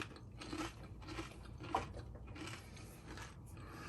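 Tortilla chips crunched while eating, a quiet, close series of crisp bites and chewing in a steady rhythm over a few seconds.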